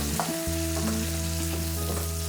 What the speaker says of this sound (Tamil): சேர்த்துட்டு இதை லைட்டாக பொன்னிறம் மாற வரைக்கும் வதக்கிக்கோங்க.